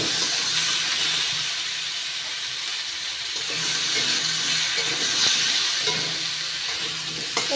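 Green and red chillies hitting a hot pan of spinach and lentil-dumpling curry, giving a steady loud sizzle and hiss throughout with occasional soft stirring scrapes.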